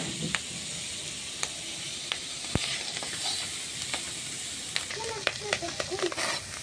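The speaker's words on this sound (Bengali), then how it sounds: "এখন কিন্তু আমার গেরিটা মানে ভাজা হয়ে গেছে দেখতে পাচ্ছ" Pond snails (gugli) fresh from a village pond sizzle steadily in a frying pan, a close, continuous crackling hiss scattered with sharp pops and the scrape of stirring.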